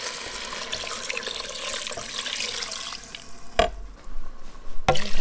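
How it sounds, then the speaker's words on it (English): Four cups of vegetable broth pour into a soup pot with carrots and celery, a steady liquid rush close by, then a few sharp knocks as the container is set down. "Which is 4 cups of veggie broth going in."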